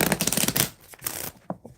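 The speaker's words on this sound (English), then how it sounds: "Shuffling, cutting the deck." A deck of tarot cards is riffled and shuffled in quick flutters, then a few sharp taps and snaps as the cards are squared and cut, close up.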